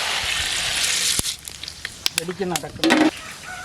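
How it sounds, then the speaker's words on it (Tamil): Black pepper sizzles in hot oil during tempering for pongal, a crackling hiss across the first second that fades into scattered pops and stirring clatter, with brief talk near the end. "மிளகு பொங்கல் தாளிக்கிறதுக்கு எண்ணெய் சூடாயிடுச்சு மிளகு சேர்த்துக்கலாம்"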